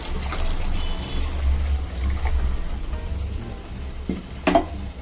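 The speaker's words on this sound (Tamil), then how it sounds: "இப்போ வந்து தண்ணிக்கு நான் 1 லிட்டர் தண்ணி வச்சுருக்கேன், இது ஊற்றிக்கலாம்." Water is poured into a hot pan of parotta salna, a steady sizzling, trickling wash with a louder splash near the end.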